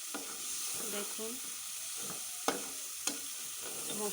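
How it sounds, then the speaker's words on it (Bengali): Spices fried and stirred in a pan with cinnamon and cardamom, a steady close sizzle broken by a few sharp scraping clicks of the spoon against the pan. "মশলাগুলো কষে গেল"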